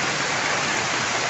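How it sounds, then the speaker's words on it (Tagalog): Heavy rain pours down steadily, a dense, loud wash of noise with no pauses. "Kay malakas pong ulan dito."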